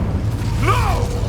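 An Incendio fire spell is cast in Hogwarts Legacy combat, with a whooshing, rising sweep of flame over a low rumbling bed, a single moderate burst in the middle of the moment.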